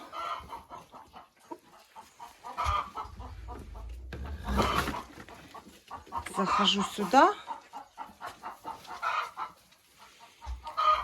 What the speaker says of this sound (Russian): Следующий вольер у меня чубатые куры.